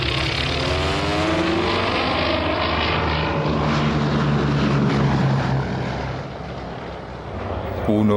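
Several WWII-era propeller aircraft engines roar at full power on a makeshift airstrip before takeoff, a loud, steady droning rumble with shifting pitch that dips briefly near the end.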